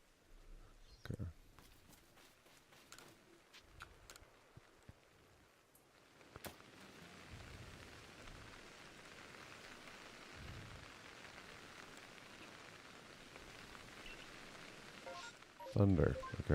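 Rain falls as a steady, soft hiss in the Pokemon Legends Arceus game, faint and continuous, with a few clicks and sharp blips from the game interface scattered over it.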